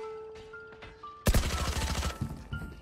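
Rapid bursts of automatic gunfire from a competitive shooter video game burst out after a quiet stretch of tonal game sounds, loud and close, with brief pauses between volleys.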